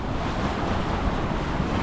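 Steady light breeze over open water at the Straits of Mackinac near Mackinaw City, a continuous soft rushing wash of wind noise and gentle surf with no talk.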